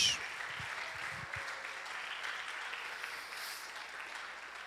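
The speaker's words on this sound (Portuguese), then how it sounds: "Fica de pé aplaudindo a Jesus." A church congregation at an evening G12 pre-convention service in Fortaleza applauding, a continuous wash of crowd clapping at a fairly distant, moderate level, with a few low knocks near the start.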